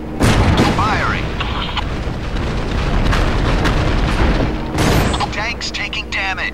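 Tank cannon fire and explosions in the video game Syphon Filter: Logan's Shadow, loud continuous booming blasts with a sharp burst near the start and another around the five-second mark, with game voices over the din.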